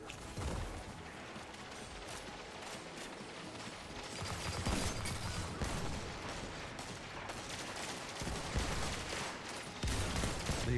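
Dense, continuous gunfire in Destiny 2 during an Iron Banner Rift match, rapid overlapping bursts and mechanical clatter at moderate level throughout, with no talk.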